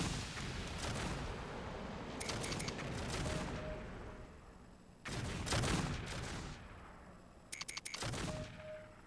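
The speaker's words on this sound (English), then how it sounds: "Transporting artillery beam" An artillery strike in MechCommander 2 arrives as repeated heavy booming bursts with rapid crackling volleys, several loud impacts spaced a few seconds apart over a constant rumbling battle background, with short electronic beeps between them.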